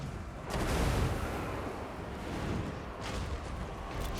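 Flame cannon firing during a siege battle in Total War: Warhammer, heavy booming blasts with a loud burst near the start and a second one later, over constant battle rumble.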